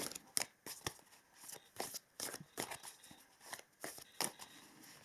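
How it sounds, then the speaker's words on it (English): Tarot cards shuffled by hand in close, crisp bursts of riffling and flicking, about a dozen quick rustles in an uneven rhythm with short pauses between, no talking. "I wanted to pull a couple of these tarot cards here today as well"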